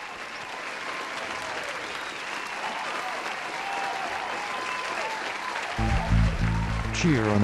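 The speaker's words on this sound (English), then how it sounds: "after years of using that applaud sound" Dense applause from a large crowd fills the whole stretch, steady and full, with a cheer-like swell and voices audible under it, and a burst of louder low sound entering near the end.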